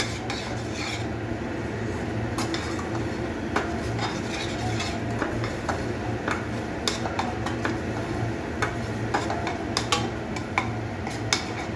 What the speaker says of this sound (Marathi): आता आपण याला मिक्स करूया. चांगले भाजून घेऊया.